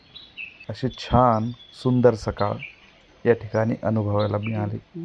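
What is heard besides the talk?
birds chirping in the morning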